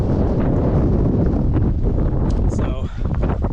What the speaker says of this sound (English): still incredibly windy